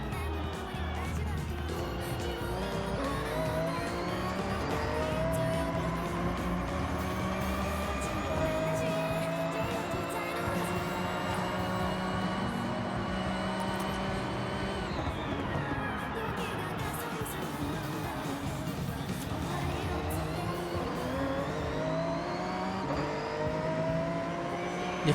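Race car engine in a Forza racing game drones and revs continuously, with pitch climbing and dropping through gear shifts and a brief downshift, steady and loud throughout.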